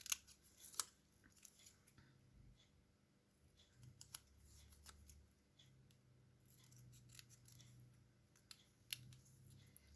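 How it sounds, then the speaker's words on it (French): Scissors snipping through paper cards for a scrapbooking memory project, a series of quiet, irregular crisp snips and clicks spread across the span with soft handling rustle between cuts, no talking. "Donc, je les découpe correctement."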